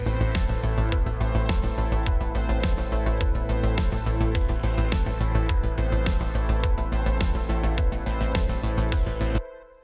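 A dense synthwave backing track with steady driving drums, bass and synth layers, compressed by an API 2500 bus compressor, plays loud and continuous before cutting off abruptly near the end.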